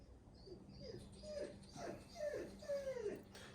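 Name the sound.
chocolate Labrador dog whining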